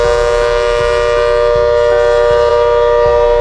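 Hurricane 130 civil defense siren sounding loud and steady, a sustained wailing tone over a low rumbling drone with periodic dull pulses, alone with no voices.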